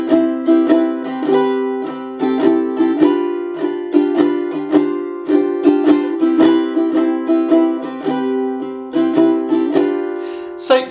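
Ukulele chord melody of a waltz, played with repeated strummed chords in a steady waltz rhythm, close and clear, each strum ringing into the next with no talking.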